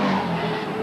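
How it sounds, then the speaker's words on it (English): Group A touring race cars sweep past the grandstand and pit straight at the 1988 South Australia Cup in Adelaide, a loud, continuous engine roar with a sustained pitched drone, heard close throughout. "the big cars start to pass us down on the grandstand and pit straight"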